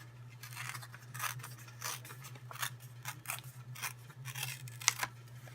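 Scissors cutting paper for a handmade stamped card: a series of close, crisp snips at an uneven pace over a low, steady background hum.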